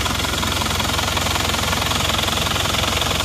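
A repaired car engine with a thermostat fitted idles at working temperature, a loud, steady, even chugging rumble close by with no voices.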